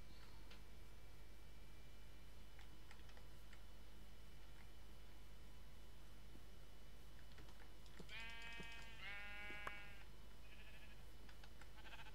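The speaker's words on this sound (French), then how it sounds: "il y a des moutons" Sheep bleat twice in quick succession in the Minecraft video game, clear harmonic calls rising over a steady low hum and faint ticking game sounds.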